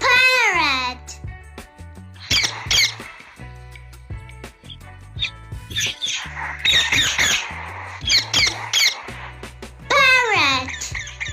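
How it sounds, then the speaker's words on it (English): Parrot squawks ring out within a toddler's ABC phonics song, bright shrill calls bursting in near the start and again near the end over steady music. "P for parrot."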